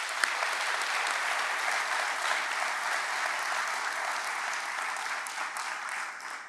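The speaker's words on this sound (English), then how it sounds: "Let's give them a big round of applause for their hard work." A crowd claps steadily through a law enforcement training graduation ceremony for a basic training class, producing a dense, sustained wash of applause that holds evenly throughout and fades slightly at the very end.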